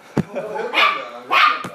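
A small dog barks twice outdoors, sharp close yaps with a short thump at the start and end of the burst.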